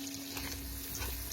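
Pumpkin pieces frying in butter in a pot, giving a steady, soft, continuous sizzle heard close up with no talking.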